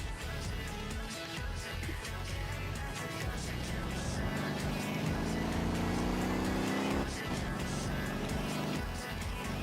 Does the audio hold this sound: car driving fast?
yes